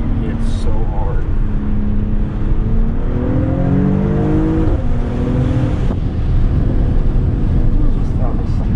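A 2021 Mercedes AMG GLE 53 Coupe accelerates while driving, its engine tone rising steadily through the gears under a continuous heavy road and wind roar, heard from inside the cabin with voices faintly present.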